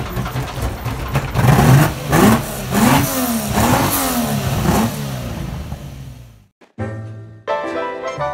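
Classic Lamborghini Miura supercar at a stop, its engine blipped in a series of sharp rising revs that fall back, then a brief cut and a few closing throttle bursts, loud and close.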